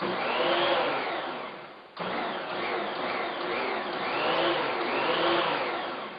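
An electric mixer whirs steadily through cookie dough after baking powder and salt are added, a loud continuous motor drone that dips briefly near the two-second mark before resuming.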